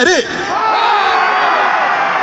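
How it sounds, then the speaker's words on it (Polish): A crowd of people screams together on cue at a Polish event, a loud, sustained burst of many voices yelling and whooping at once, filling the whole clip. "na 3-4 wszyscy się boimy i krzyczymy 3-4!"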